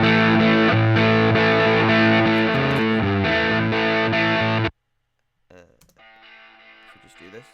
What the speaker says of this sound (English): Let's go on distortion, because you know everyone likes a bit of distortion.